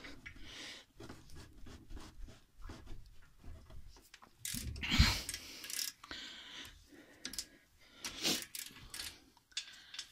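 A hand ratchet clicks in short bursts while loosening 17 mm brake caliper bracket bolts on a 2007-2011 Toyota Camry front brake, near and fairly quiet, with clanks of metal between strokes.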